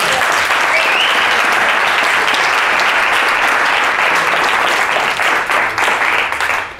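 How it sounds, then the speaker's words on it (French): A large audience at an evening talk bursts into loud, sustained applause, a thick wall of clapping that holds steady for several seconds before thinning slightly at the end. "Ça s'applaudit."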